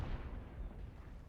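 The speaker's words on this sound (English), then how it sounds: "And now they're getting cannon fire straight into their flank." A brief burst of cannon fire in the Civil War strategy game Ultimate General: Civil War, a deep, muffled boom with a rumbling tail that fades slightly over a second, with no voices.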